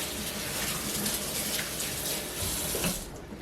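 A kitchen tap runs steadily while fresh strawberries are washed beneath it into a sieve, giving a loud, continuous splashing rush that thins out at the very end.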